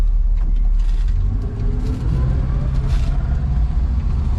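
A 1967 Dodge Dart rolls along at low speed over speed bumps, its engine a steady loud rumble with road noise close inside the cabin and a brief dip around the middle.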